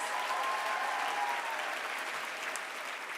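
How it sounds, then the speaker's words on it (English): Applause from an audience at a scholarship presentation event for mentees, a dense steady wash of clapping that holds throughout and eases slightly toward the end. "Give them a round of applause, you guys."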